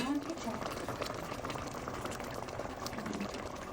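Beef caldereta stew boiling in a pot, a steady bubbling simmer with broadband liquid noise throughout, fairly soft, with a voice speaking over it.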